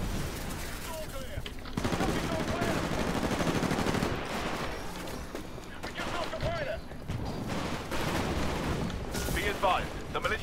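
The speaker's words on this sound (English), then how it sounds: "Oh, freaking shotgun" Dense gunfire fills a Titanfall match, with sustained rattling bursts and heavy blasts that include shotgun fire. The sound is loud and continuous, with no clear pauses.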